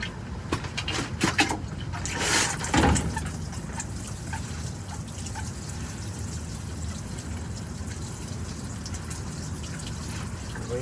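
Rainwater poured onto garden soil to moisten it, a steady wash of pouring water with a few brief, louder splashes early on, then a continuous soft trickle that runs to the end.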